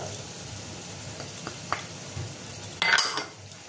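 Chili, turmeric, cumin, coriander and garam masala powders with salt being fried in a pan, heard close as a quiet sizzle with spoon taps and scrapes that build to a brief louder clatter near the end.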